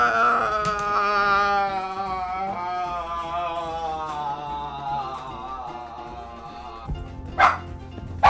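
Dogs bark and howl close by in a drawn-out, wavering chorus of whines and yelps, ending with a couple of sharp louder barks.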